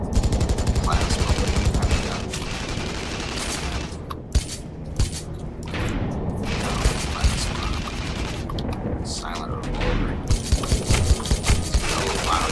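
A semi-automatic plasma gun firing in the video game Tribes Ascend, dense rapid bursts of zapping shots over loud, busy game sound, with some brief gaps between volleys.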